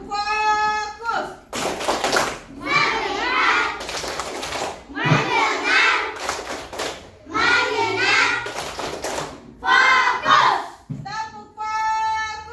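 Children performing the tepuk fokus clapping chant, rhythmic bursts of hand claps and sharp taps alternating with young voices chanting in short phrases, lively and close, with brief pauses between groups.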